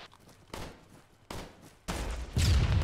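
An anti-tank launcher fires at a BTR armoured vehicle in the military game Arma, heard as a series of sharp, loud reports that strike in quick succession and build into a heavy closing blast.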